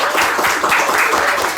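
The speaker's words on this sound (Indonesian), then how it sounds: "Tapi tepuk tangan dulu dong buat Erika dong." A short burst of audience applause for a guest named Erika at an indoor talk session, dense clapping that stays loud and steady the whole time.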